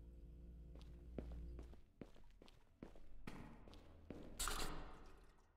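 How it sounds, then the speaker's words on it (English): Watering can pouring onto plants in a video game, with soft dripping, trickling and splashing bursts in short separate spurts, the last one louder and wetter. "Alright, water the plants."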